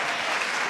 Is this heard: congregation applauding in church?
yes